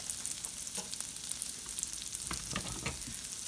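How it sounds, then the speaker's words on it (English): Shallots sautéing in butter in an oven-safe skillet, giving a soft, quiet sizzle with a few light stirring scrapes. "So we're going to just saute these in our butter and get them nice and soft."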